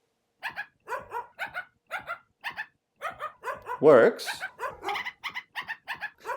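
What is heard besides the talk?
dog barks played back at random pitches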